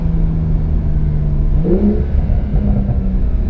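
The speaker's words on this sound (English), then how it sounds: "I'm going to see if this car can do launch control." A Porsche 911 Carrera (992), the 2020 base C2, launches hard under launch control, its loud engine note rising steadily from a held rev into a climbing acceleration roar with a brief gearshift break partway through.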